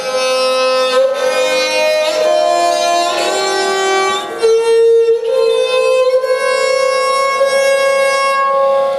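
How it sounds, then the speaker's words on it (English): A sustained melodic instrument, harmonium-like, steps upward note by note through the ascending scale of raga Kalyan, loud and alone with no voices. "So our ascending structure in Kalyan would be like this."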